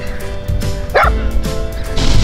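A dog barks and yips among rapeseed flowers at a seaside park, a few sharp close barks and whimpers over a steady outdoor background with faint voices.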